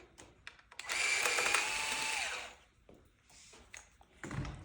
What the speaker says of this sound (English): we're going to take off these two Phillips screws